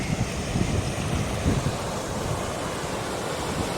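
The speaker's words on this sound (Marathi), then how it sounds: "एकदम जोऱ्यात प्रवाह असणाऱ्या नदीतून परिक्रमावासियांना वाट काढून जावं लागतं" The strong current of the Narmada river rushes steadily in a dense, continuous roar, loud and even throughout, with wind buffeting the microphone.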